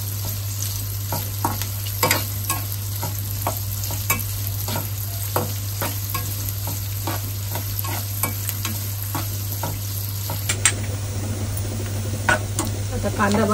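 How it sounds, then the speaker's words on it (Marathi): Chopped onion frying in about two spoons of hot oil for a Malvani-style egg masala curry, with a steady close sizzle, periodic scraping stirs at a regular pace, and a low hum beneath throughout. "तेल तापलंय बऱ्यापैकी। कांदा टाकून घेते।"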